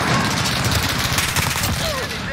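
Gunfire heard through a wall during a Call of Duty Modern Warfare match: dense, rapid bursts of shots that run continuously at high volume, with game effects layered in the background.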